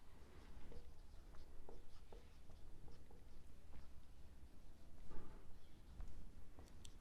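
A pen or chalk scratches steadily across a board while a cylinder area formula is written in a maths lesson, faint and close against a hissy room background.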